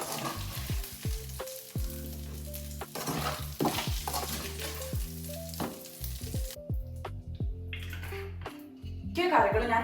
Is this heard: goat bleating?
no